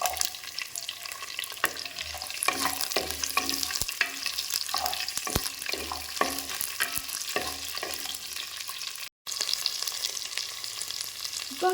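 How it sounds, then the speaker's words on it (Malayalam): Shallots and green chillies sauté in oil for an eggplant theeyal, a continuous close sizzle broken by a run of stirring scrapes and clinks, with one brief dropout near the end and no voices. "ചുവന്നുള്ളിയും പച്ചമുളകും കൂടെ എണ്ണയിൽ വഴറ്റാനായിട്ട് നമ്മൾ വെച്ചിട്ടുണ്ടായിരുന്നു മുമ്പ്."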